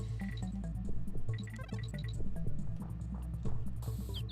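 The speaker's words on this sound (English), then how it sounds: "We get water projectiles." Water projectiles fired by an elephant in the Donkey Kong Country 3 video game, quick wet splashy pops and drips repeating in a busy rhythm over game music.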